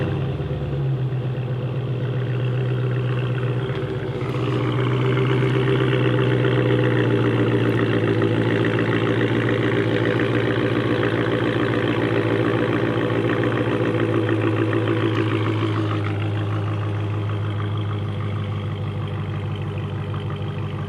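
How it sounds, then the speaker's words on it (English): A 2018 Dodge Challenger T/A 392 V8 with true dual exhaust remote-starts and settles into a steady, deep idle, rumbling continuously for about twenty seconds with no talking. "I have to go ahead and remote start it so you can hear the engine."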